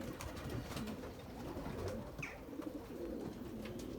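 Racing pigeons coo softly at a loft on arrival from a 200 km race, low murmuring calls repeating under a steady windy background with a few flutters and scattered chirps.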